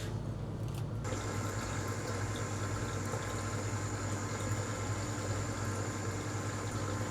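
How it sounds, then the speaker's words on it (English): A small pump starts up to recirculate liquid through a kegerator tap into a jug, giving a steady humming whir with a trickling, running-liquid wash that keeps on evenly to the end. "turning the tap on, and then turning the pump on"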